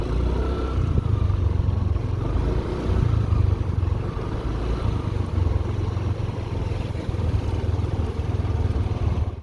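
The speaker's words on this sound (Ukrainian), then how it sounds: "Зараз перевіримо, як скутер набирає." A Yamaha Nmax 125 scooter engine pulls away and accelerates, a steady low drone with a noticeable dip in rhythm partway through, heard close and alone with no talk.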